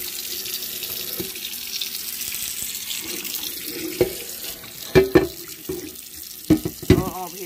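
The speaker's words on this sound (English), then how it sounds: "I'm gonna pour this water out" Tap water runs into a kitchen sink while dishes are being washed, a steady flow joined by sharper splashes and clatters toward the end, with no talking.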